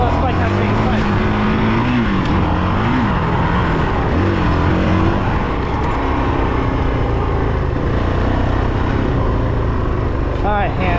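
Honda CRF450RL dirt bike engine revving while riding on dirt, a loud, continuous buzzing roar whose pitch rises and falls with throttle changes, close and dominant throughout.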